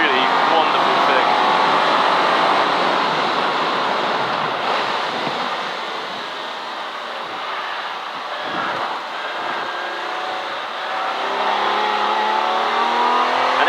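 A V12 racing car howls around the Silverstone circuit during a CSCC Modern & Future Classics race, its loud engine roar steady and wind-buffeted, dipping briefly in the middle before swelling again.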